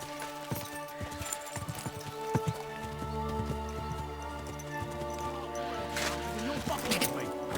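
Horse in Kingdom Come: Deliverance II clops its hooves in an uneven rhythm and snorts or whinnies, with a low rumble and a burst of noise near the end, under excited talk.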